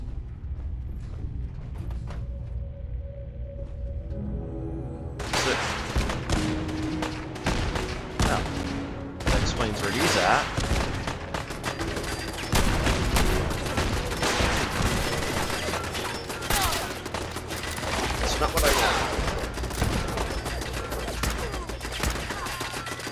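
Turrets firing in Fallout 4, dense bursts of gunfire and clattering mechanical impacts that start after a quiet opening and keep going loud and busy to the end.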